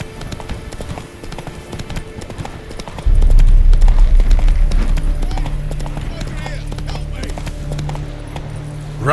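Hooves of Roach, a horse in The Witcher 3, break into a loud, rapid galloping clip-clop that starts abruptly and pounds on steadily, close up, with someone speaking over it.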